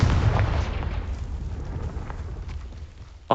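Confringo spell blast in Hogwarts Legacy, a loud booming explosion at the start that rumbles and fades, followed by a sharp pop at the end.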